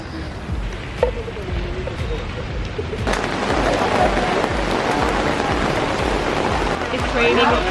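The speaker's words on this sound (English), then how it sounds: "It's raining heavier and heavier now." Heavy rain pours near a cave entrance in Puerto Princesa, a dense, steady wash that swells louder partway through and holds on, with no talk.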